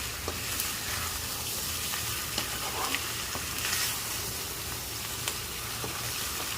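Chicken fries in a pan while being stirred, giving a steady, close sizzle with light scraping and stirring clicks throughout.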